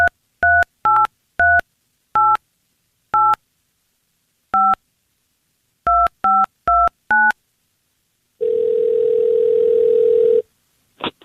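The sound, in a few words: telephone dialing tones for a radio call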